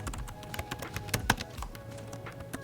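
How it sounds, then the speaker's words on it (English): Quick, irregular key clicks tap out on a computer keyboard, close and moderately loud, with no voices. "I'm going to type in Oakley"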